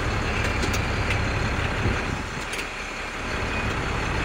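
A 2006 International box truck with an automatic transmission idles and runs steadily, its engine a loud, constant broadband rumble close by, with a slight dip in level midway as the gear engages; no one speaks.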